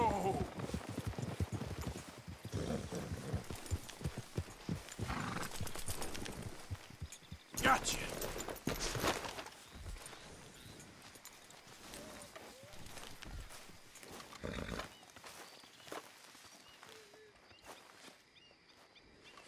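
Horses clip-clop steadily along at a walking pace in Red Dead Redemption 2, hooves thudding quietly beneath low ambient sound with a few sharper accents, while voices talk throughout.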